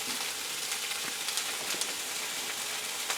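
A sunny side up egg fries in a pan, giving a steady, close hiss of sizzling with faint crackles throughout and no talking.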